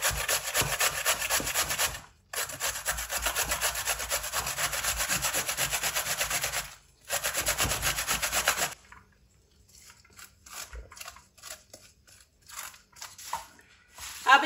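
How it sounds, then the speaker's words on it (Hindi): White radish rubbed against a hand grater in a kitchen, giving steady rasping strokes in long continuous bursts that break off briefly, then scattered softer scraping and handling noises toward the end. "अब इनको कर लेंगे कद्दूकस।"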